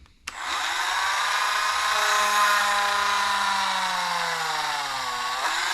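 A Dremel rotary tool with a 2.5mm bit whines up sharply and runs loud and close for several seconds as it punches holes in parts for an HB Racing E819RS build, its pitch sagging slightly before it stops.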